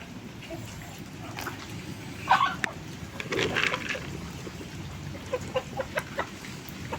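Backyard farm chickens cluck in short, scattered bursts over a soft continuous background, a few louder calls standing out near and moderately loud, with no talking.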